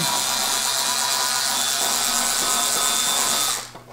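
A power driver with a quarter inch bit backing screws out of a Bell & Howell 16mm projector cover, a steady close whirring buzz that cuts off near the end, no talking.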